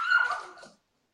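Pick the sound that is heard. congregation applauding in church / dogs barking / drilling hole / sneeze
dogs barking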